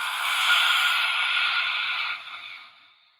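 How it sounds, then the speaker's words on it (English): A deep open-mouthed exhale with the tongue stuck out, a breathy rush of air that holds steady for about two seconds and then tapers away, alone and close. "as you exhale, open the mouth, stick out your tongue, and let it all out"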